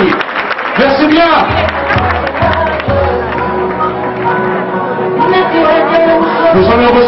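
An audience at the Miss Thies 2018 pageant applauds a contestant as she leaves the stage, and loud crowd clapping and cheering fill the clip under an announcer's voice and music.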